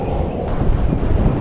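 Strong, steady wind at a high mountain pass in the Andes of Chile roars and buffets the microphone, a dense low rush with gusty swells throughout and no voices.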